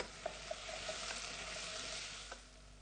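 Dry spices with turmeric powder sautéing in a pan give off a soft, steady sizzle, with a few faint clinks of stirring throughout.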